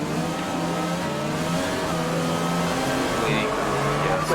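A Volkswagen Formula 1 car at the start of the Australian Grand Prix in a racing video game revs loudly and climbs in pitch, its engine whine rising steadily and close up.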